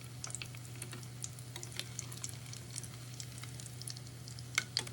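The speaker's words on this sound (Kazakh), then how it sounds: "Қыздар, осылай қуырамыз." Dough for a sweet tea treat fries in hot oil, a faint, steady sizzle with scattered small pops and bubbling crackles, close and quiet with a low hum beneath.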